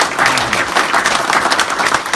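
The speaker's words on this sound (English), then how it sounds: "round of applause for the veterans." An audience at a speaking event applauds veterans in the room, a short burst of dense, loud clapping from many hands filling the space.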